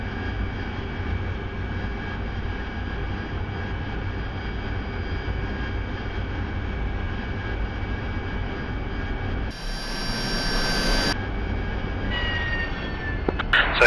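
Jet aircraft engine in the DCS flight simulator roaring steadily as it taxis down the runway for a conventional takeoff, a continuous loud drone with a brief higher whine shift partway through.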